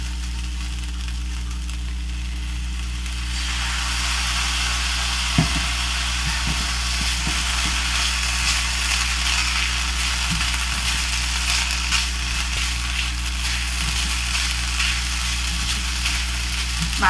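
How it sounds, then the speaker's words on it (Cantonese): Vegetarian glutinous rice stir-fried with vegetables in a pan over medium heat: after a quiet start, a steady sizzle builds and holds, broken by occasional light scraping clicks, with no talking. "我哋呢就可以用中火嚟到煎"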